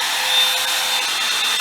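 A Revlon hair dryer brush runs on its high setting, a steady, loud whooshing motor hum heard close up with no talking.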